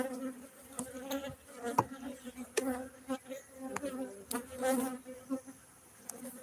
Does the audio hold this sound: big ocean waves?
no